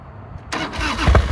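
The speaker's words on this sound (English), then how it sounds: "key on, fuel, choke, make sure it's in neutral," A 1991 Harley-Davidson FXRS Convertible motorcycle engine cranks and catches after a brief silence, firing up loudly and close into a rough rumble.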